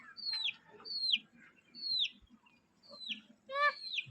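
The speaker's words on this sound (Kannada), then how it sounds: "ಕೋಳಿ ಶೆಡ್ ಐತೆ, ಕೋಳಿ ಸಾಕೋದು" Chickens call from a farm chicken shed in short, separate bright clucks and squawks, about five spaced over several seconds, moderately close with a quiet background and no talk.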